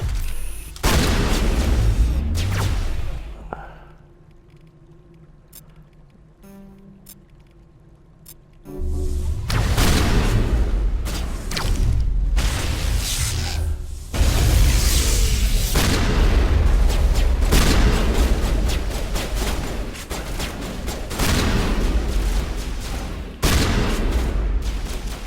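Heavy booming shotgun blasts and gunfire from a Mass Effect firefight, loud close bursts with a brief quieter lull, then a dense run of repeated impacts and explosions.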